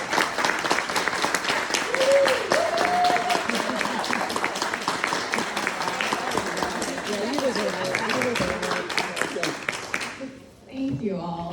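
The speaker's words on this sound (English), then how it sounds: "How about a round of applause for our wonderful president?" Neighborhood association annual meeting audience gives a round of applause for its president, sustained crowd clapping over about ten seconds mixed with voices and cheers, then fading out near the end.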